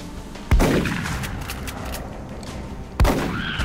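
Gunfire from a flank shot in XCOM: Enemy Unknown, two loud, heavy blasts about two and a half seconds apart, each followed by a rumbling decay over ongoing game ambience.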